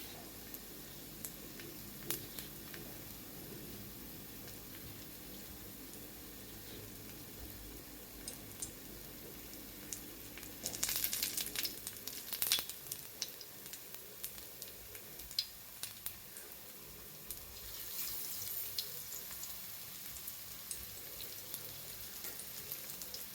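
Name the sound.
sweet corn veg cutlets shallow frying in oil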